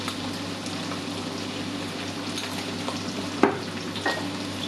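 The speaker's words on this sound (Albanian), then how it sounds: "e grirë do ta skuqim në zjarr të avash, do ta skuqim diku për 20 minuta" Minced meat frying over heat in a pan, a steady close sizzle with scraping stir strokes, including a sharper clank partway through.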